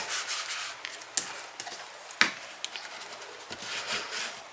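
Paper being burnished with firm rubbing strokes while assembling a handmade waterfall photo album, close and dry, steady scraping swipes broken by a few sharper pressing taps.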